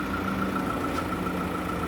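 A 2014 Ford Territory's 2.7 litre six-cylinder diesel engine running steadily, a constant close mechanical hum and drone with no change in pitch and no voices.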